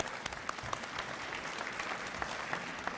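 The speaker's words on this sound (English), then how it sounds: "we can clap for them" Steady audience clapping fills a banquet hall at an Air National Guard annual awards banquet, a continuous moderate patter of many hands throughout with a few sharper individual claps.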